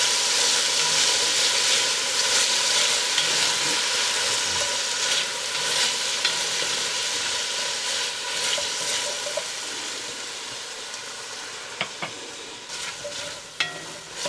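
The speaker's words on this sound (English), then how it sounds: "How's that sizzle?" Steady frying sizzle of tomatoes in oil in a pan, with stirring scrapes and occasional clinks of a utensil against the pan, continuous and close, gradually easing slightly toward the end.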